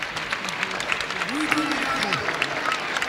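An audience at an Olympic flame handover ceremony claps in a dense, continuous patter of applause, with a voice and sliding tones mixed in beneath.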